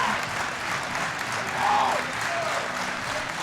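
Spectators at the IPF World Equipped Powerlifting Championships in Viborg applaud steadily, a dense, even wash of clapping from a large arena crowd, swelling briefly with a faint whistle or cheer above it.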